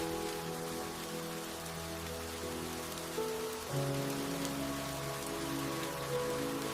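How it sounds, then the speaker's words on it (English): Rain falls steadily in a cozy forest village scene, a soft, constant patter under gentle sustained music tones. "Oh, the rain. It's beautiful."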